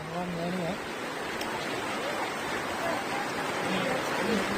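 A flooded river in Alawwa rushes in a steady, dense roar that never lets up, with faint voices briefly audible over the water near the start.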